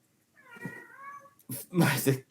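A cat lets out one drawn-out meow nearby, then people talk loudly over the background right after it.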